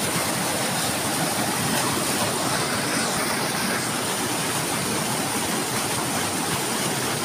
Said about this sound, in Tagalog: Malakas yung agos mga hunter, bitado.